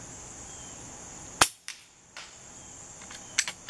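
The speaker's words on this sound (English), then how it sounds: "I think I'm on my last shot." A .22 calibre sub-12 ft-lb air rifle fires a JSB 18 grain pellet at a 30-yard target: one sharp, close crack, followed by faint ticks and a small later click in a quiet outdoor setting.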